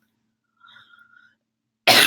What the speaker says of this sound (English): Excuse me, I coughed again.